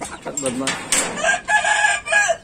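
A rooster crows nearby, loud drawn-out calls repeating several times over faint background noise.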